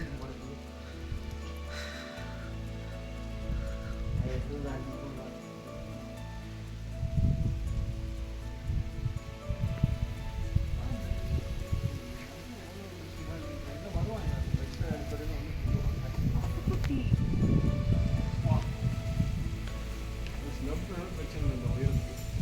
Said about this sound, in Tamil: மழை வந்துச்சு போல் அப்படியே மழை போகுது